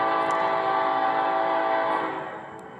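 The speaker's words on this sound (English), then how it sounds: "A freight train heading north towards the United States" Northbound freight train approaching with a long, loud, steady horn blast that holds for most of the clip before fading slightly at the end, no talk over it.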